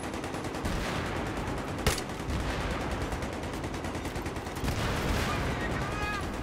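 Continuous automatic gunfire and explosions in Battlefield 3 multiplayer, dense loud bursts filling the mix with occasional sharper cracks, while players talk over it.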